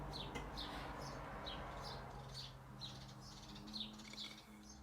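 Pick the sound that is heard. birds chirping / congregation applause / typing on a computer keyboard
birds chirping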